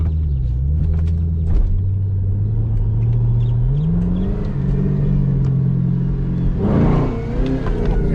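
Supercharged car engine revving hard and loud up close while downshifting, pitch climbing and dropping in sustained rumbling surges with a fresh rise near the end.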